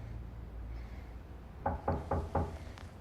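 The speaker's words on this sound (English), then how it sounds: "Listen, there's a knock on the door." Four firm knocks on a door in an even rhythm, fairly close and clear over a quiet room background, then a faint tap.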